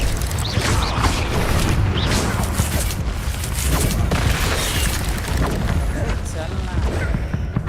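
The Incendio fire spell is cast in Hogwarts Legacy amid busy combat, with dense crackling bursts, booming impacts and mechanical clatter filling the clip, and voices speaking over the action.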